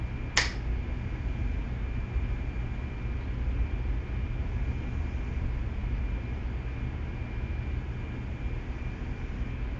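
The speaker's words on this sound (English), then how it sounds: "when I snap my fingers, blink it all out." A single crisp finger snap rings out near the start, sharp and close, followed by a long stretch of steady room hum and hiss with no other sound.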